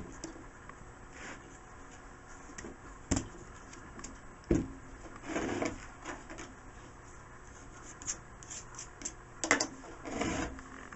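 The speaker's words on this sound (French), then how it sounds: "Avec un autre sorte de petit couteau, je décolle ma cheminée." A small knife scrapes and pries ceramic slip away from a three-part plaster mould, making soft close rasping scrapes broken by several sharp clicks and knocks at irregular intervals, with no talk.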